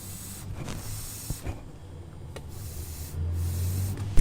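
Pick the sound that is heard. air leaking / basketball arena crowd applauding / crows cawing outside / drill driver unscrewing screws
air leaking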